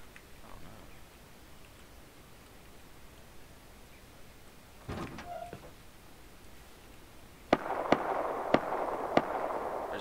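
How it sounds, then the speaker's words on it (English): Several sharp, distant explosions and pops during a raid in the video game Rust sound against faint background noise, a short cluster near the end followed by a lingering hiss. "I knew there was a raid going on. I heard fucking explosions."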